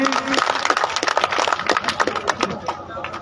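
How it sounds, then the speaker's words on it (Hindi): Scattered clapping welcomes a donor at a temple bidding event, a short ripple of applause under a voice speaking over the crowd. "एक बार जोरदार ताली बजाकर इनका स्वागत करें"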